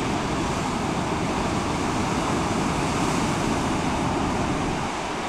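Pacific Ocean surf on the Oregon coast with 18-foot swells, heard as a continuous broad roar of breaking waves mixed with wind buffeting the microphone, loud and unbroken.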